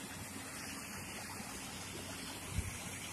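A river stream flows steadily with a constant broadband wash of water, moderately quiet and unbroken, with a small bump near the end and no voices.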